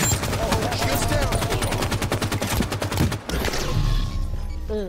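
Rapid automatic gunfire in the video game Halo 5: Guardians, a dense continuous burst of shots followed by a few louder reports, with players talking over it.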